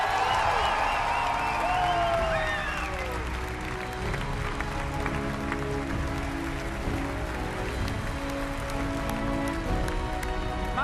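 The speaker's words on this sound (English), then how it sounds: "can I please get another round of applause for that man?" Audience applause fills a large hall at the Bethesda Softworks E3 2015 conference, a sustained, dense clapping that stays loud and steady throughout, with some cheering early on.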